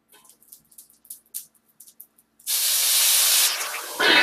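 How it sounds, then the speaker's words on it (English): Water poured into a hot frying pan of Japanese gyoza bursts into a loud, steady steaming hiss after a few faint clicks and taps, swelling again near the end. "I just added a little bit of water. Now it's steaming."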